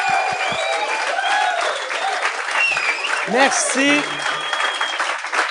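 An audience applauds to welcome two guests onto a stage, steady dense clapping throughout with brief whoops and a voice speaking over it near the end.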